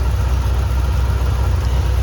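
A Chevrolet Corvette C3 engine runs for the first time in two years, a loud, steady, close-up idle with a deep rumbling low end and no talk over it.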